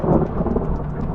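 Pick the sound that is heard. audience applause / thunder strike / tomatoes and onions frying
thunder strike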